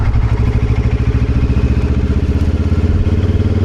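A BMW R1300 GSA motorcycle engine on a test ride, a loud, close, steady pulsing thrum with a fast even beat, heard alone with no voices.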